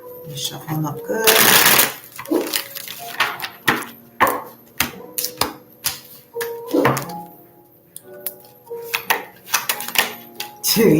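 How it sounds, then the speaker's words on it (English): Tarot cards being shuffled by hand, a run of crisp riffling bursts and soft taps close to the mic, with someone talking intermittently between them. "Shuffle them up good."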